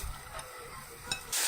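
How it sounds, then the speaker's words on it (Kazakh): Onion and carrot frying in oil give a soft, steady sizzle, faint and close, with a couple of light stirring scrapes. "Сол үшін пияз бен сәбізді майға қуыраймыз."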